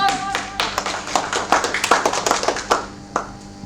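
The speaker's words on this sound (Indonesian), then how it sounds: "Beri aplaus sekali lagi dong." An audience at an East Java general insurance agents' association commitment event applauds, a burst of brisk, uneven clapping from several people that thins out toward the end.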